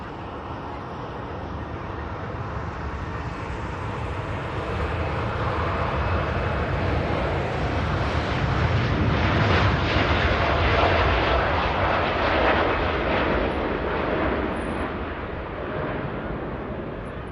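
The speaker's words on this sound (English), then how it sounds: "Gulf Air Dreamliner heading back to Bahrain, departing on runway 23 right here at Manchester Airport" A Gulf Air Boeing Dreamliner takes off from runway 23 at Manchester Airport, its jet engines a loud continuous roar that builds to a peak and then slowly recedes.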